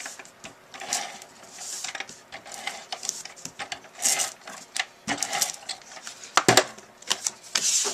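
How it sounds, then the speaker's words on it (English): Adhesive tape gun run across a paper card base at a crafting desk, giving a rapid mechanical clicking and ratcheting rattle in several close, uneven bursts, with no talk. "I'm going to adhere this to my card base with just my ATG."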